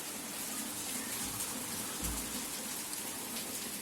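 Steady, soft hiss of rain falling, with a couple of brief low thumps partway through; no voices.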